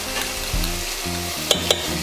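Vegetables with a little jerk seasoning sauté in a hot pan, sizzling steadily up close with the scrape of stirring and a couple of sharp utensil clinks.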